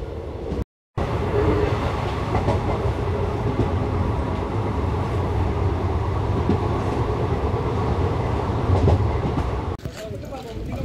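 A 17261 Tirupati Express train runs steadily on the rails between Guntur and Tirupati, giving a continuous loud rumble with faint rhythmic clatter. A brief dropout comes early, and the noise eases slightly near the end.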